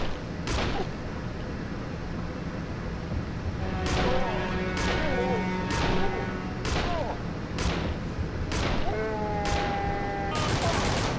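Repeated gunshots in the Urban Chaos Riot Response video game ring out in sharp bursts spaced a second or so apart, ending in a quicker volley, over constant background noise while voices talk between shots.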